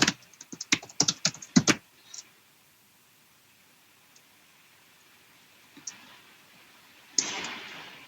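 Quick bursts of keystrokes on a computer keyboard clatter close by for about two seconds, then a long quiet stretch with a couple of isolated clicks and a final short rustle.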